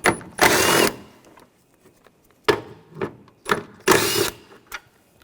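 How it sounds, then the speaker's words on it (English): A 10mm socket ratchet works bolts loose on a Nissan Rogue, heard as a few bursts of rapid clicking separated by short mechanical clunks and quiet gaps, close by and with no talk. "Take these two bolts out, use a 10mm socket."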